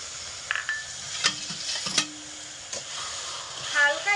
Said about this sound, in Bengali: একটু নাড়াচাড়া করে সুন্দর করে একটা চিনির রস বানিয়ে নেব